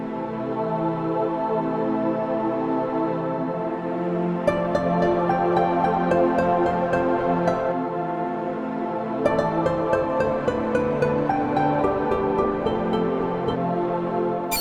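Two synth pads from the Atmosphere 3 plugin are layered into a lush sustained chord bed. Bright shimmering accents enter partway through and then return, with no talking.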